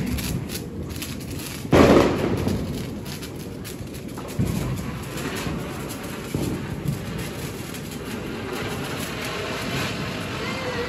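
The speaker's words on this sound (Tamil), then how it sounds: "அடுத்து நம்ம வந்து சங்கு சக்கரம் வந்து வைக்கலாம்." A ground spinner (sangu chakkaram) firework set off on Diwali, with a sharp ignition burst followed by a steady hissing, crackling spin nearby, fairly loud and continuous.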